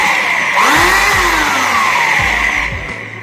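An electric blower runs loud and close with a steady whine and a broad rushing airflow, its pitch sweeping up as it spins to speed, with low thumps underneath.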